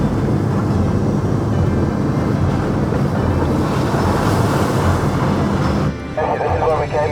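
A 4x4 on mud tires drives across a wet salt pan at Khubu Island in Botswana, giving a loud, continuous rushing roar of tire and wind noise, with a voice speaking briefly near the end.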